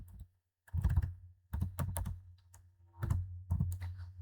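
Code being typed on a computer keyboard, with close, quick clusters of key clicks in short bursts separated by brief pauses.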